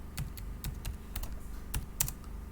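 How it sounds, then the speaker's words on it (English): Quiet, close keystrokes come in an uneven patter as a child's name is typed on a computer keyboard, each click sharp and distinct over a faint steady hum. "then I'll type the child's name"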